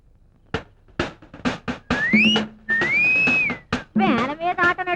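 A man whistles a tune in a comedy scene, sliding, wavering notes in short phrases mixed with spoken bursts, loud and close.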